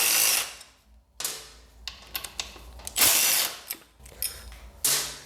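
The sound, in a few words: removing motorcycle rear set bolts with ratchet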